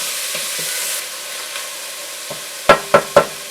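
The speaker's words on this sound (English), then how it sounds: "Just to saute for 5 minutes." Onion and garlic sautéing in a pan for chili, a steady close sizzle that fades slightly, then three sharp stirring clacks near the end, no talk.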